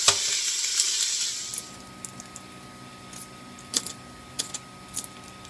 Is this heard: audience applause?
no